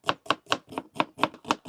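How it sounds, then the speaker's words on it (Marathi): A knife chops onion for a fish curry gravy in rapid, even strokes. About eight crisp, close chops land in a steady rhythm, with no talking. "आपण आता ग्रेव्हीसाठी कांदा कट करून"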